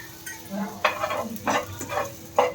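Coarsely ground dry fruit powder frying in a pan, with scraping and stirring strokes against the metal and a soft sizzle, several short bursts at an even pace, close and moderately loud with no talking.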